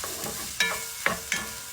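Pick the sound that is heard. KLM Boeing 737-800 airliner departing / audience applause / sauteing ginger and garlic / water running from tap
sauteing ginger and garlic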